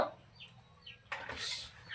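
A few soft, scattered chicken clucks and squawks, faint and close, with a brief rustle partway through.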